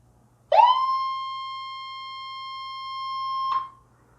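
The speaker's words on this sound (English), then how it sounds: "that's when the siren went off." A 122 dB end-of-period siren on a DC-40T-DN-NEMA continuous loop timer sounds one loud, steady high-pitched tone for about three seconds after the countdown reaches zero, then stops abruptly.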